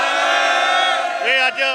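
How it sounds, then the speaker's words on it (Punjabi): Crowd at a pigeon-flying competition in Punjab answering the Sikh jaikara war cry, a loud massed shout of many voices, sustained, then rising into a couple of drawn-out whooping calls at the end. "ਸਾਡੇ ਸਰੋਂ ਇੱਕ ਵਾਰੀ ਜਕਾਰਾ ਬੁਲਾ ਦਿਓ ਬੋਲੇ ਸੋ ਨਿਹਾਲ ਸਤਿ ਸ੍ਰੀ ਅਕਾਲ"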